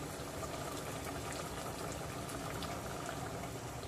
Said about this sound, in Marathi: मस्त उकळी आलेली आहे, घातलेला आंबा पण शिजलेला आहे